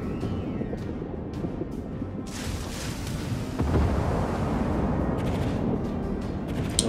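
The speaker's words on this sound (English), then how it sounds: "Alright, AAA is firing" Anti-aircraft guns firing at warships in a naval combat video game, a rumbling barrage of booming shots and crackling bursts, loud and continuous, thickening into a denser roar partway through.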